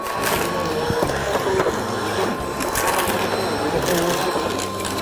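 A Succo 3000 vacuum cleaner sucks up thumbtacks, giving a loud, continuous mechanical rattle and clatter with gritty crunching bursts throughout, close and steady.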